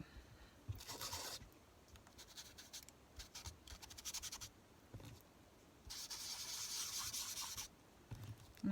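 Foam sheets from a scrapbooking setup are rubbed and scraped in quick scratchy bursts, several short strokes and one longer sustained rub, close and fairly quiet with no talking.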